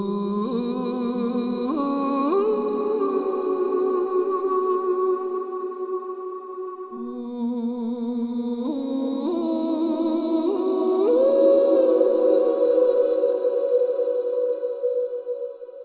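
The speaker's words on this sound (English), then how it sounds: "we could try a different module, for example, maybe the impulse reverb. And let's go with Cosmic this time." A sung vocal phrase drenched in the Cosmic impulse reverb, its sustained pitched notes shifting in steps and trailing into a long, shimmering wash, loud and alone without speech.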